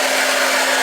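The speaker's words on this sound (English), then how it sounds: "the best way to do it is to use a hair dryer" A hair dryer blows at close range inside a camper van, making a loud, steady whoosh with a constant motor whine. No voices are heard.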